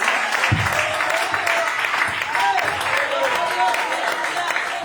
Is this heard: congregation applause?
yes